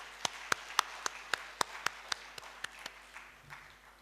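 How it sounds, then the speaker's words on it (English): Crisp, evenly spaced claps, about a dozen in steady rhythm that grow sparser and softer, ring out over a low hum at the inaugural ceremony of the 45th ICQCC 2020 convention in Dhaka, welcoming Gambia. "Please give a big clap and wave your hands."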